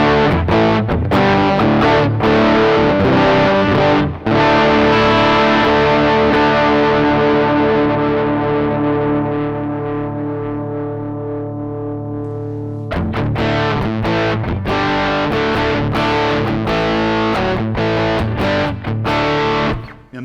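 Electric guitar run through cheap JOYO Vox and Fender amp-emulation pedals into a Strymon Iridium, playing loud distorted chords that ring out and sustain into a long decay before a fresh burst of strummed, driven playing.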